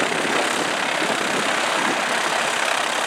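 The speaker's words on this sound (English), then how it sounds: "Here comes a single-engine Cessna now landing at Camarillo." A single-engine Cessna coming in to land at Camarillo, heard as a steady, fairly loud broadband engine roar with airy hiss that holds evenly throughout, no voices over it.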